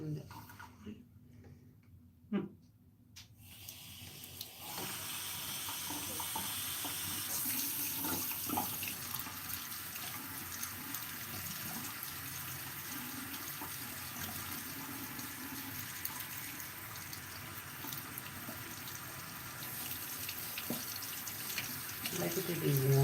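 Warm water runs from a bathroom tap in a steady, fairly loud rush that starts after a few quiet seconds and continues unbroken to the end, with faint background sounds of someone moving around.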